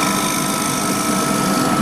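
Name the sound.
scraper cutting wood on lathe, turning lamp base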